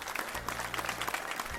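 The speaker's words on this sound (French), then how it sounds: "Les dieux applaudissent." Applause from an assembled crowd of gods, a steady wash of many hands clapping through the whole short stretch, moderately loud with a low hum underneath.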